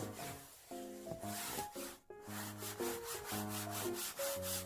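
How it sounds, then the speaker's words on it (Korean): Rapid, rhythmic scrubbing strokes of a melamine sponge rub back and forth against a foldable floor mat, close up, with tonal background music playing underneath. "매직블럭으로 닦은 다음 바로 물티슈로 닦아주세요"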